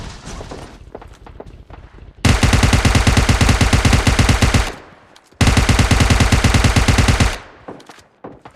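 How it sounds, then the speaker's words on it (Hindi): Rapid automatic gunfire in a battle royale video game comes in two long, loud, dense bursts separated by a short pause, with quieter scattered shots before the first burst. "अब उनको मारने के बाद 3 जगह से फायर हो रहा था।"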